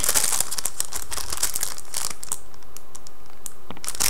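Plastic packaging of a black silicone iPod Touch 4G case with a tire-tread pattern is unwrapped up close, giving a steady run of loud crinkling and crackling with no one talking.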